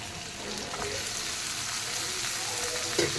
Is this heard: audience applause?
no